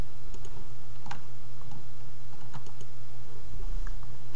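Computer keyboard typing for a Minecraft sign comes as scattered, crisp key clicks in uneven bursts, close to the microphone over a low steady hum.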